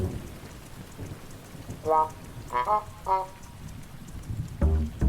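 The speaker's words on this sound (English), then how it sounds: "Thunderstorm sounds for sleeping." Thunderstorm rain for sleeping plays as a soft continuous hiss of rainfall with low rumbling, while a few short tonal bursts rise over it midway and near the end.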